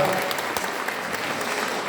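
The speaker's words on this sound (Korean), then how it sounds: "박수!" Audience applause at a gathering, a dense, steady roar of many hands clapping that fills the whole moment at even loudness.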